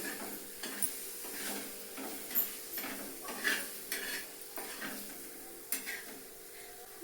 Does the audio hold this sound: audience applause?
no